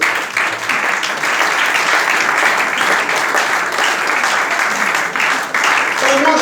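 A church congregation at a French-language service claps steadily and loudly in sustained applause, with voices mixed in throughout.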